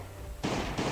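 Gunshots in the mobile survival game Last Day on Earth: Survival, two short bursts of loud fire after a quieter moment, the second following closely on the first.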